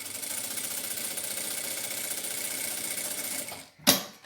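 Sewing machine stitching fabric scraps together: a close, steady, fast mechanical whirring run lasting over three seconds, then stopping, followed by a short rustle or clack, with no talk.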